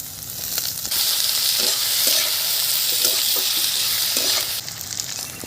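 Potatoes tipped into onions frying in oil: the sizzle swells sharply as they land, then stays loud and steady under occasional spatula scrapes before easing near the end.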